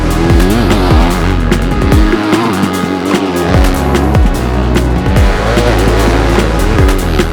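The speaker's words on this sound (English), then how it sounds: "This is Kyle Moose's Yamaha YZ250F with an XPR engine, A-kit suspension." A Yamaha YZ250F dirt bike with an XPR engine and A-kit suspension revs loud and close, its engine note rising and falling repeatedly through several sharp throttle blips and gear changes.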